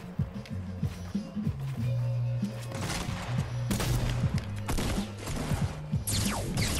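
Shotgun blasts in a multiplayer shooter video game, several sharp booms scattered among loud mechanical clatter and thuds of a close-range fight, with other game noise around them.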